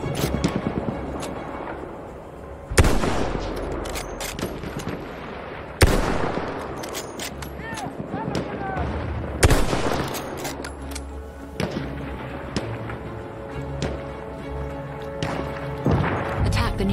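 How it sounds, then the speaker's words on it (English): Enemy artillery barrage and gunfire in Battlefield 1 on a war battlefield, with heavy booming blasts every few seconds over constant rattling gunfire, close and loud, while voices speak under the din. "Wait for the enemy artillery barrage to stop firing."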